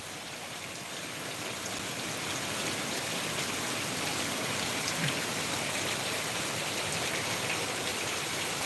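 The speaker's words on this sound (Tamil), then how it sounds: "ஆஃப் அன் ஹவர் தான் நல்ல மழை" Heavy rain falling in Trichy, a dense, even hiss of drops on surfaces that holds steady throughout, moderately quiet with no voices.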